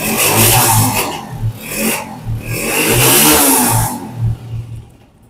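A used Honda 125 motorcycle engine idles and blips its throttle in repeated loud revs, a close, rough mid-pitched roar rising and falling for several seconds before settling lower, with no talking over it.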